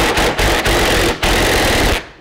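A power drill backs rusted 10 mm bolts out of a fog light mount on a 1998 Subaru Outback, a loud, continuous rattling whir with brief dips, close up and alone.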